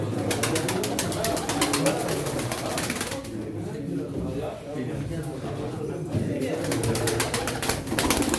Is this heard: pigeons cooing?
yes